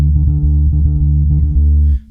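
A bass guitar plays a disco line with the octave D held fully fretted, so each low note rings on and drones into the next; a steady, sustained pulse of close, loud bass tones, stopping abruptly near the end.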